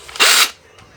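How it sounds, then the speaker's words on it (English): A power drill bores into thick wood in one short, loud whirring burst that cuts off abruptly, leaving near silence. "Just have a tab and a brew while I'm drilling this through."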